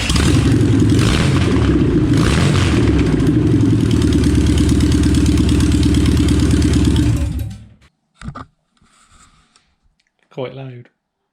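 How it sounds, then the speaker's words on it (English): A Volkswagen T3 van engine with no exhaust silencer roars and rattles loudly and raw at idle for several seconds, then cuts off, followed by brief clicks and a short voice. "Have you ever wondered what a T3 sounds like with no exhaust silencer?"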